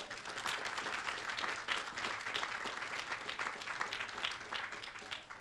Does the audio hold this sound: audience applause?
yes